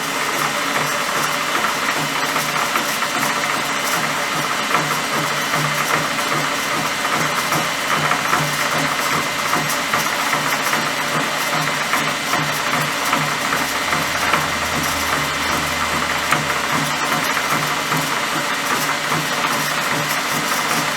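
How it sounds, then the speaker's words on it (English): A lathe runs continuously, machining a part for a BM Enfield 350 trials motorcycle, giving a steady mechanical whir with faint rhythmic ticking throughout, close and even in level, with no speech. "Let's put it in the lathe."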